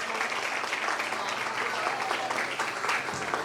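An audience at a children's Resurrection Day prize distribution claps for a girl receiving her gift, a dense, steady wash of applause that fills the whole stretch.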